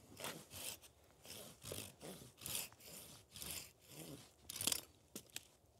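A Felco 640 or Silky Gomboy pruning saw cuts through wood in a rhythmic series of rasping strokes, about a dozen back-and-forth pulls, close and moderately loud, with no voices.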